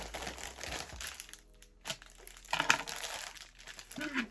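Plastic packaging crinkles and crackles close up as a lost parcel is opened, in short irregular bursts with quiet pauses between them, and a voice speaks briefly.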